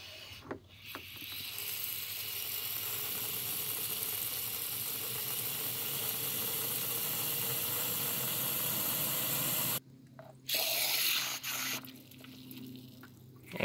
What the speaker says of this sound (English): now we're gonna add water to the radiator until it's full, but not coming out the overflow